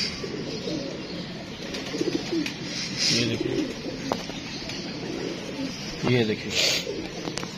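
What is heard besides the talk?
old pigeon cooing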